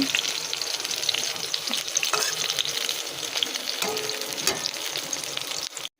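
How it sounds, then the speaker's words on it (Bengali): Pointed gourd and onion fry together in a pan over a low gas flame, with a dense, steady sizzle close by and occasional stirring scrapes before it cuts off at the end. "বেশ পটল আর পেঁয়াজ আমি একসাথে ভাজতে দিয়ে দিয়েছি"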